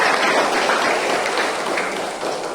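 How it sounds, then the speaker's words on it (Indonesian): Steady, dense audience applause fills a PMKRI officer installation ceremony, sounding close and continuous for a few seconds without speech. "Kita berikan aplaus."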